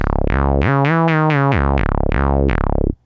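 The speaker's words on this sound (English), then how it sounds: "you want to create a basic 303 inspired sound" A buzzy, resonant 303-style synth bass plays a short sequence of plucked notes, with glide sliding pitch between some of them and a squelchy filter sweep on each note.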